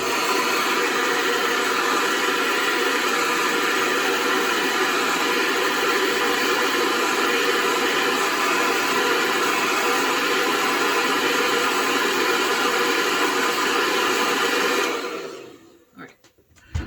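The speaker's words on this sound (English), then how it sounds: "Hair dryer." A hair dryer blows steadily and loudly while a wig is being laid, its broad airy roar holding for about fifteen seconds before cutting off abruptly.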